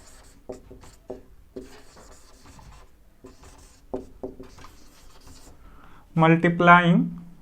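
Marker or chalk writing on a board during an engineering lesson on the DC motor torque equation, short faint scratchy strokes in bursts, with someone talking over them.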